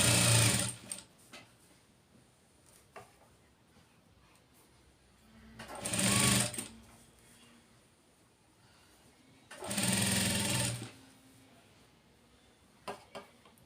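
A sewing machine stitches the sleeve of a small child's gown in three distinct runs, the longer bursts separated by quiet pauses, fairly close and loud, with no talk.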